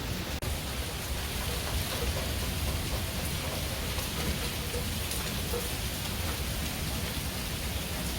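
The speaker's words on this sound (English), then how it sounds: "you can get an idea of all of the rain coming down" Heavy rain pours steadily through a nighttime thunderstorm, a dense, continuous hiss of drops striking surfaces in a backyard, loud and unbroken from start to finish with no voices.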